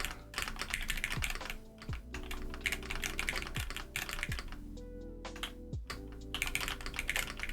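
Continuous rapid clacking of a mechanical computer keyboard under steady typing, close and fairly loud, with dense key strikes and occasional heavier thumps throughout, no voices.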